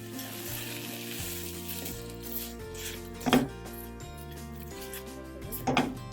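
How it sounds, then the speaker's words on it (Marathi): Seedless dates softening in a hot pan for Ayurvedic edible-gum laddoos, giving a steady low sizzle with soft scraping and a couple of brief louder knocks from the pan or utensil, close by and with no talking. "हा आता मी या लाडवामध्ये टाकणार आहे त्यासाठी मी हे गरम पॅन भांड आहे थोडं मेल्ट करून घेणार आहे"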